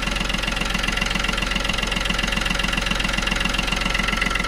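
A 2013 Chevrolet Beat diesel car engine idles steadily in Hyderabad, a close, continuous low rumble with an even, rapid knocking pulse throughout and no voices.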